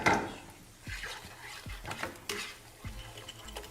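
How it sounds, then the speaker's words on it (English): Someone stirs a creamy mixture in a pot, the spoon scraping and knocking against the sides in irregular strokes, with faint kitchen clatter behind it. "Because I'm going to keep stirring."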